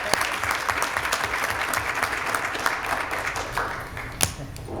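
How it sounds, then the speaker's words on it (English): An audience at a Roswell, Georgia mayor and city council meeting gives Kerwin a round of applause: steady, dense clapping from many hands throughout, with one sharper clap standing out near the end. "Let's have a hand for Kerwin."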